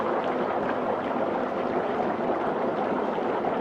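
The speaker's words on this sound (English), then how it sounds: "we're gonna grab all this dry ice, about 2 pounds, and put it inside of the water" Two pounds of dry ice churn in a container of hot water, giving a steady, dense bubbling and gurgling wash that holds close and fairly loud with no pause.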